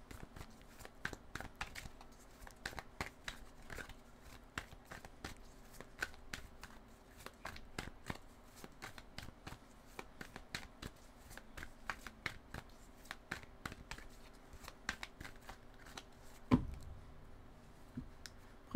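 A tarot deck is shuffled and cut by hand. Soft riffling card flicks repeat in quick, steady bursts for a long stretch, close and quiet, ending in a slightly louder tap as the deck is cut.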